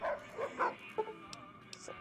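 A dog barks in Fallout New Vegas, giving several short yips and barks close by in quick succession, followed by a few faint higher chirps in a quiet game scene.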